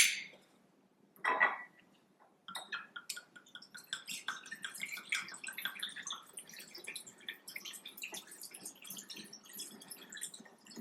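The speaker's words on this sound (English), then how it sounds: "And I'm going to pour in here my spice rum." Spiced rum pours through a funnel into a bottle packed with vanilla beans, starting with a small glassy clink. A quiet, steady trickle and splatter follows and runs on for several seconds, close and alone.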